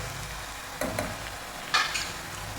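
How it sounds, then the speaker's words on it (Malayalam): Onions and ginger garlic paste sizzle softly in a pan for a potato masala, with a steady low frying hiss and a couple of brief stirring scrapes. "ഈ സമയത്ത് നമുക്ക് ഒരു ടീസ്പൂൺ ഇഞ്ചി വെളുത്തുള്ളി പേസ്റ്റ് ഇടാം"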